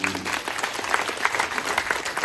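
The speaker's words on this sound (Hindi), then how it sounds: "बहुत सारे लोग, एक बार जोरदार ताली बजा दो यार।" A hall audience applauds loudly in a dense, steady wash of clapping that lasts the whole short stretch, with no talk over it.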